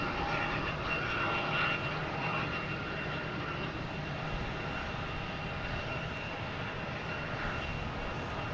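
A Southwest Airlines Boeing 737 MAX takes off at Boston Logan Airport, a steady, broad jet engine roar heard from a distance at constant strength, with no talking over it.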